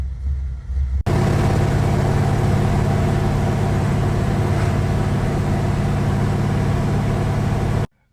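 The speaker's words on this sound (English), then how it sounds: "Gotta love the sound of an old school small block." An old-school small-block V8 in a 1979 Chevy K10 truck idles with a loud, steady, low rumble and even harmonic drone, beginning abruptly after a quieter second and cutting off near the end.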